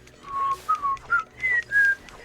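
Someone whistles a short tune close by, five or six clear pitched notes in a rising, slightly uneven rhythm, loud and unaccompanied over faint background hum.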